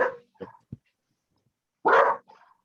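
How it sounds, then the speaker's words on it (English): A dog barks a few times close by during an online meeting call, short sharp yaps followed by a louder, longer bark and a softer trailing one. "Barking."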